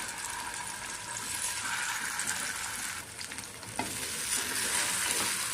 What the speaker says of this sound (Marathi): आता मी आपले मॅरिनेशन झालेले आहेत ना, ते मिक्सचर ॲड करते.